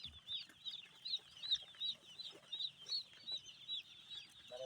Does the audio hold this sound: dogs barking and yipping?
no